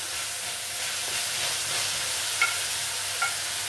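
Chopped garlic sautéing in a pan alongside plenty of onions, a loud, dense, continuous sizzle heard close up, with a couple of faint utensil taps as it is stirred and no talking.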